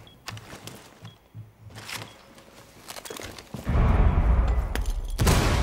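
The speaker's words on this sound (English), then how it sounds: "That was a close frag grenade." A frag grenade goes off close by in a video game: a sudden, loud, broad blast that roars on for about two seconds, following quieter scattered in-game clicks and thuds.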